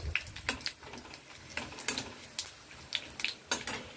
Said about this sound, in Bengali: 3টে শুকনো লঙ্কা ফাটিয়ে দিয়ে দেবো, আর দেবো দারচিনি, এটা ফোড়নে যাবে